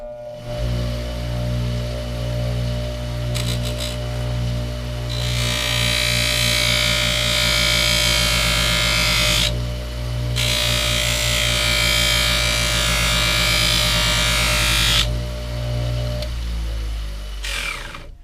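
A bench motor hums steadily while a buffing wheel roars through two long, loud passes as a knife handle is pressed against it, with no talking.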